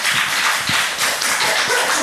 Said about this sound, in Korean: 우리 박수로 하나님께 영광을 드립시다